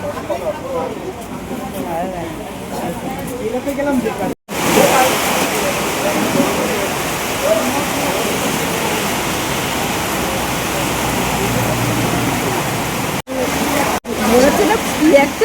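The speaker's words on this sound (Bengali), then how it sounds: "দেখো বৃষ্টি নামছে বাইরে" Heavy rain pours outside beside a highway, a steady, dense wash of hiss that runs almost unbroken through the scene with a couple of brief dropouts, and people talk over it.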